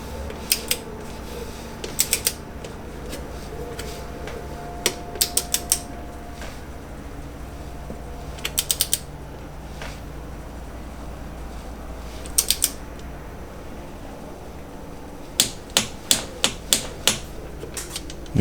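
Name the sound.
torque wrench tightening bolts on Porsche Cayenne transmission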